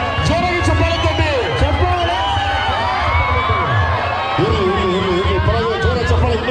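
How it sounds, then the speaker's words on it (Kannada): A dense crowd applauds at a mallakhamb competition held during a temple fair, steady clapping blended with cheering and general babble of voices throughout. "ಜೋರಾಗಿ ಚಪ್ಪಾಳೆ ತಟ್ಟಿ."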